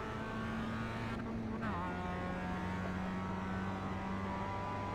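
A Mazda race car in a sim racing game hums steadily, its engine a continuous buzzing drone with a brief shift in pitch partway through, heard fairly quietly and alone.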